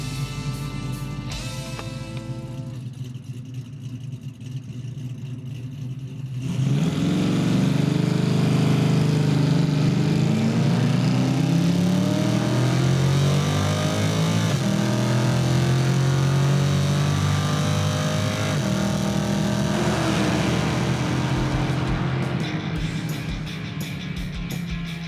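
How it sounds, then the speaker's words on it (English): A Nova drag car revs hard through a rolling burnout at a quarter-mile strip, its loud, sustained engine roar swelling in after a quieter idle and holding steady for most of the pass before easing off. "She loves to do those rolling burnouts."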